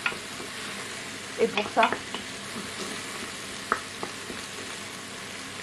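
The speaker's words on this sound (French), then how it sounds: "on fait bien revenir" Lentils sauté in a pan, a continuous soft sizzle broken by scraping strokes and light clicks of a utensil stirring them, with a few words spoken quietly at the start.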